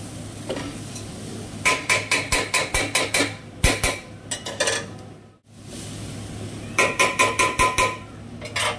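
Rice for pulao being lightly fried in a pan, heard as bursts of quick rhythmic scraping and clinking strokes from a spoon against the pan, repeated in several runs with short pauses and a soft sizzle underneath.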